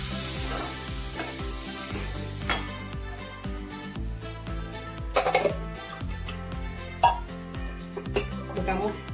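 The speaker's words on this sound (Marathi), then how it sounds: "आपण तेलात ते मसाले छान परतून घेतलेले आहे." Spice masala paste sizzling and frying in hot oil for pav bhaji, a steady crackling hiss with stirring clatter and occasional louder bursts, heard alone without talk.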